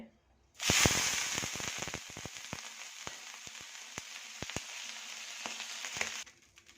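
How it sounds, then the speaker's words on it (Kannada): Onion dosa batter sizzles on a hot griddle: a loud hiss that starts abruptly, with crackling pops scattered throughout, steady and close before cutting off. "ದೋಸೆ ಹಾಕೋಣ ಇವಾಗ ಇಲ್ಲಿ ಹಂಚು ಕಾಯ್ದಿದೆ"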